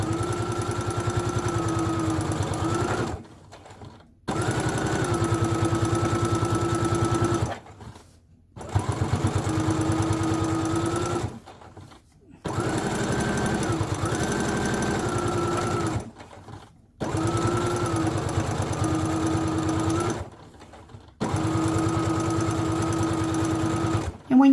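A sewing machine back stitches a dog leash in six steady runs of rapid, even mechanical whirring, each a few seconds long and separated by short pauses, loud and close.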